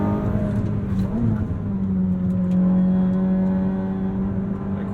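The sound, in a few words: Ferrari SF90 Spider engine with aggressive downshifts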